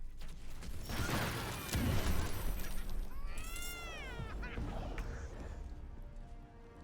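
Cat meows played from a soundboard during a game stream, rising and falling in a few distinct calls over clattering background noise and faint voices.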